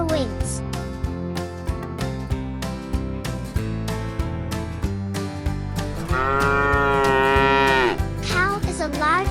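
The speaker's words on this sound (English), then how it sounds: "Cow is a large animal with 4 legs and a long tail." A cow moos over a bright children's music track on a farm, the long lowing calls rising out of the song near the middle and again briefly toward the end.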